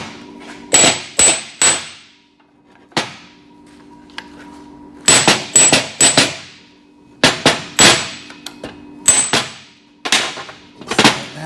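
Metal taps hammering on a part to loosen it while a screwdriver is wedged under one side, sharp ringing clangs in quick clusters of two to four strikes with pauses between, loud and close with no talking.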